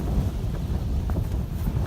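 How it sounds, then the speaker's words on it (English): High wind buffets an MLD Trailstar shelter pitched at a col at 3 Tarns in the Lake District, a loud continuous low roar and rumble of gusts with fabric flapping close to the microphone. "what the Trailstar is like in windy conditions"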